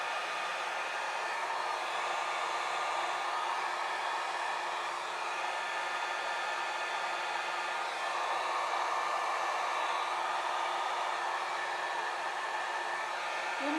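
A hair dryer on its number 2 setting blows alcohol inks across a painting, a steady, close broadband whoosh that holds at an even level for the whole stretch with no talking.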